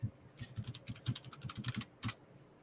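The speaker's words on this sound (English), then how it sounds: "He's typing yes." Computer keyboard typing, a quick irregular run of light key clicks close to the microphone, with no voices and only a faint background hiss.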